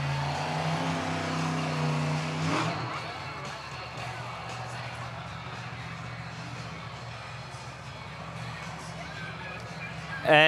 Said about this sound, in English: Let's hear it for Tim Hall Jr., Jurassic Attack